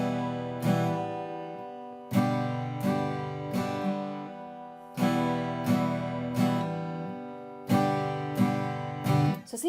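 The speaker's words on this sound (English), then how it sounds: "I'm sacrificing the 4th down strum to give myself enough time to get to the G" An acoustic guitar is strummed in a steady rhythm through a chord change into G, with the fourth down strum left out, leaving small gaps between bright, ringing groups of strokes, close and clear with no talking.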